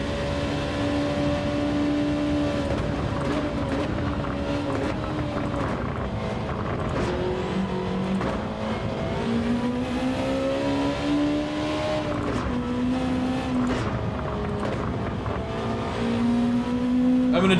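Race car engines in Gran Turismo 7 during a Suzuka race roar continuously, rising and falling in pitch through gear changes and revving, with occasional tire noise across the whole stretch.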